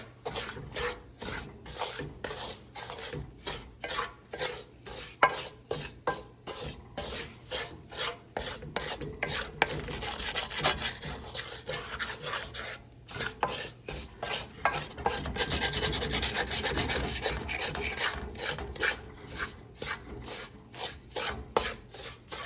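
A thick homemade halwa is stirred steadily in a pan for a long stretch, its oil starting to separate, giving repeated scraping, rasping strokes at a fairly even rhythm, close and continuous, with no talking.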